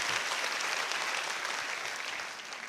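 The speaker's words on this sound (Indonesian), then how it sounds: "Tepuk tangannya boleh yang paling meriah buat Tuhan." Congregation applauding during a church service, dense sustained clapping from many hands that fills the room and tapers slightly toward the end, with no voices over it.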